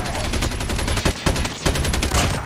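Gunfire in a Call of Duty Mobile battle royale match comes as rapid, loud automatic bursts and repeated shots in quick succession, filling the game soundscape throughout.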